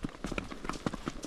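Horse hooves clip-clop in a quick irregular rhythm on a trail in Pahalgam, Kashmir, moderately near, with faint voices in the background.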